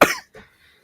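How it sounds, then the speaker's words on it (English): A person coughs twice up close: one loud, sharp cough followed by a softer, shorter one, then quiet. "Oh God, I'm coughing again."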